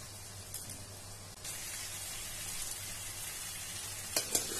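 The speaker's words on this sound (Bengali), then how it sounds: "এখন এই মশলাটাকে সুন্দর করে কষিয়ে নিব" Soaked spice paste frying in hot oil in a pan, a steady hissing sizzle close by, with a couple of quick spatula clinks toward the end.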